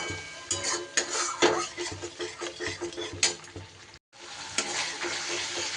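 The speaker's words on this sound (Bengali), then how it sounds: "সব কিছু কষিয়ে নিতে হবে।" Spice masala stir-fried in a pan over low gas, a busy sizzle with repeated scraping and stirring clatter of utensil against metal, briefly cutting out before the frying hiss resumes.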